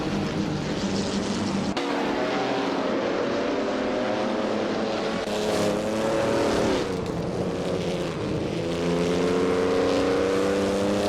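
Race cars in a racing video game roar steadily throughout, with engine tones rising and falling as the cars shift and pass one another, sustained and fairly loud with no voices.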